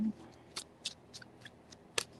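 Tarot cards being shuffled by hand, a handful of soft, crisp riffles and flicks spaced irregularly and heard close in a quiet room.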